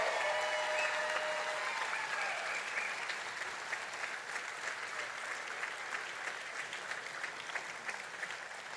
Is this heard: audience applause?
yes